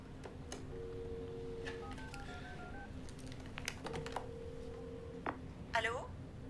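Tones of a telephone keypad sound as a number is dialed to return a call. A series of short beeps in uneven groups is followed by a longer steady tone, with a few faint clicks and a brief chirp near the end.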